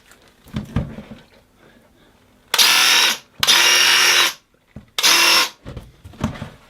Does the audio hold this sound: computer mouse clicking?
no